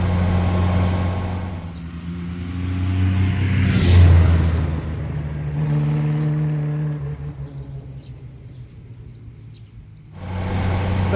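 An old car driving along at about 30 mph, its engine humming steadily and loudly with a rise in revs around the middle, then easing off before a brief near-silent gap, and returning near the end.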